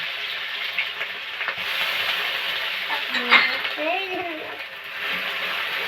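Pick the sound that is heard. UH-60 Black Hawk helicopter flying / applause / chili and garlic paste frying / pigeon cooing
chili and garlic paste frying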